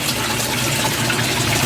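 Water pours and gushes steadily into an aquaponics grow bed full of plant roots, a loud, continuous splashing rush heard close up with no talking.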